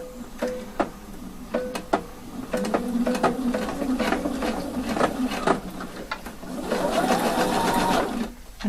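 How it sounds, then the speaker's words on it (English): A sewing machine runs along a waist seam with a facing in short bursts, stopping and restarting a few times, then settles into one longer, steadier run of close, rapid stitching near the end. "So start sewing in here 1 centimeter of seam allowance."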